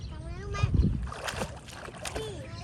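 A child splashes in water while swimming, with a few soft splashes and sloshes close by as a voice and other talk carry over them.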